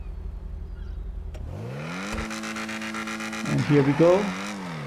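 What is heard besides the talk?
Jaguar XE Project 8 car accelerating in a video game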